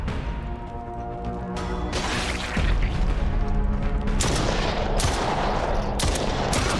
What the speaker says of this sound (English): as soon as I shot him in the head, he went down.